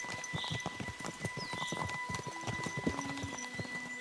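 Horse hooves clip-clop in Kingdom Come Deliverance II, a steady rhythmic walk of distinct hoof strikes at moderate volume over a faint background hum, with a brief low tone partway through.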